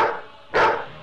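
A hungry dog gives a single loud bark near the listener, after a fading earlier sound.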